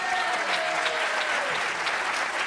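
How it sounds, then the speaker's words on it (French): An audience at an evening apprenticeship event in Pays de la Loire applauds a presenter, a dense, even thunder of clapping that holds steady and loud for the whole stretch. "Je vous demande, s'il vous plaît, un tonnerre d'applaudissements pour Marc Atride."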